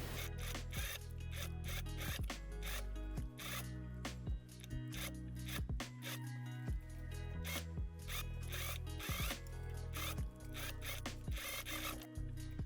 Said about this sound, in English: I'm also going to overlock around the sleeve area